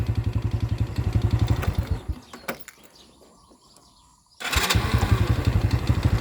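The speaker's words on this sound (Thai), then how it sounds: "นี่สตาร์ทมือนะพี่น้องนี่ สตาร์ทมือ" A motorcycle engine is kick-started by hand, running with a rapid, loud thumping putter, then dying into a quiet gap of shuffling and clicks before firing up again and chugging steadily.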